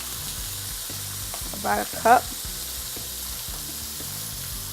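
Beef frying in a pan, a steady close sizzle running throughout the clip, with a brief spoken phrase partway through.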